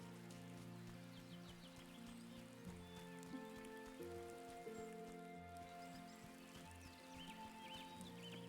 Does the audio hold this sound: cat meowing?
no